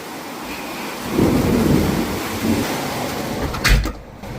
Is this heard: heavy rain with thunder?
yes